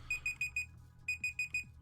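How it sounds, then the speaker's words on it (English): An alarm clock beeps in two quick bursts of four shrill, evenly spaced tones, separated by a short pause, clear and fairly close against a quiet room. "I set an alarm here so that I would know when to stop typing"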